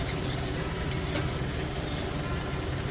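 Spices and curry leaves for sambar sautéing in a pan, a loud, dense, unbroken sizzle held at close range with no voices.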